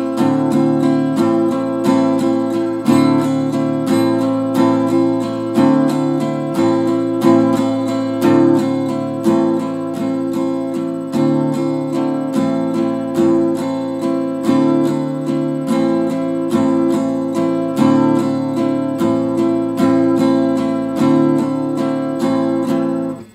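A guitar is strummed in a quick down-down-up pattern, bright chords repeating in an even, driving rhythm, played close and loud with no talking.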